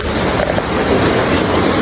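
Steady night rain falls on a village, a dense, loud, unbroken wash of hiss with no voices.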